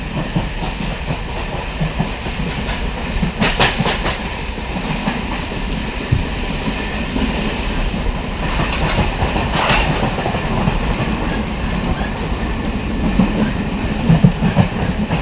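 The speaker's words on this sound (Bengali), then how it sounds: "আমাদের ট্রেন এখন বাতনা স্পিড করছে বন্ধুরা" A local train rattles along at speed between Shantipur and Simurali on a winter night, wheels clacking rhythmically under a constant roar, with occasional sharper clatters from inside the near-empty carriage.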